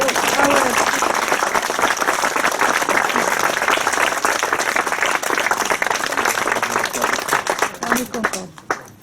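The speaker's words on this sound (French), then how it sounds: "On peut l'applaudir." An audience at a bust inauguration ceremony claps in loud, dense applause that holds steady for most of the stretch, then thins into scattered claps and fades out at the end.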